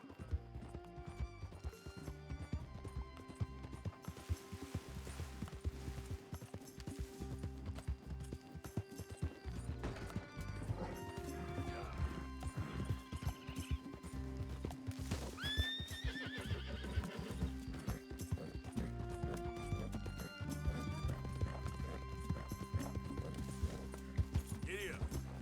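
Horse whinnying and hooves clip-clopping in Red Dead Redemption 2 gameplay, set against a steady game music score, with a short voiced line in the middle.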